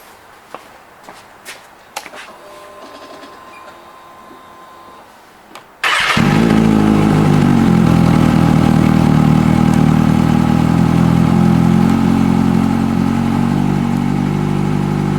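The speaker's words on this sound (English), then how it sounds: "We can now plug the rectifier back in and fire up the bike to do a function test." A 2013-2018 Kawasaki Ninja ZX-6R motorcycle engine cranks and fires up about six seconds in after a few quiet clicks and handling sounds, then settles into a loud, steady close-up idle.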